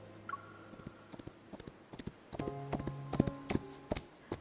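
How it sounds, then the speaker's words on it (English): Horse hoofbeats from a white horse approaching across a pasture beside a guest house in the Love and Deepspace game, heard as scattered, irregular clip-clop taps that grow denser and louder toward the end over a soft musical background. "I hear the faint sound of hoofbeats and turn."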